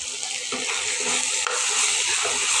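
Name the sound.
lentils (dal) frying in a pan with ginger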